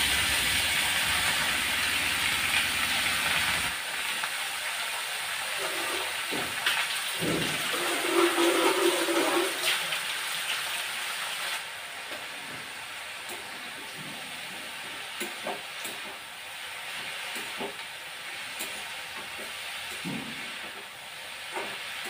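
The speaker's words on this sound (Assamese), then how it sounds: "এয়া দালি বইল হৈ গ'ল কুকাৰত" A kitchen pressure cooker of dal vents steam in a loud, rushing hiss for the first few seconds, then drops to a quieter background of faint clatters.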